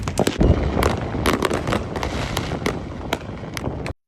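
Fireworks bursting over a bridge crowded with spectators, a dense run of loud, close pops and booms layered over a continuous rumble that cuts off abruptly at the end.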